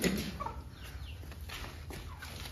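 Chickens and a rooster in a backyard coop cluck softly and steadily with no voices, the low murmur of the flock running on throughout.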